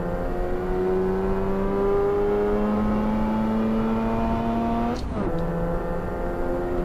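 A street car engine in the Shutoku Revival Project driving game holds a steady revving drone with rising harmonics, then downshifts sharply near the end with a brief crackle before settling into a higher, continuous note.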